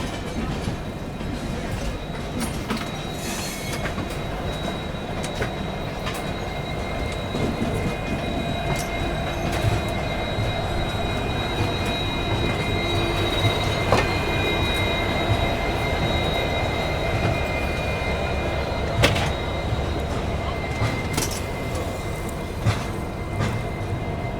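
The Chennai Express train rolls into MGR Chennai Central, a loud continuous rumble of wheels and carriages with occasional clanks and a faint metallic squeal as it slows.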